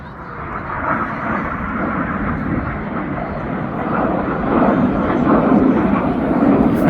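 Jet aircraft of the RAF Red Arrows display team roar at an outdoor air festival in the Midlands, United Kingdom, a broad continuous engine rumble that swells louder toward the end, with a commentator talking over it.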